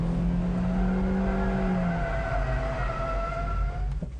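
A front-engine rear-drive car on a track as the driver applies power to induce oversteer, engine note rising and falling with harmonic whine, close and loud with no one talking.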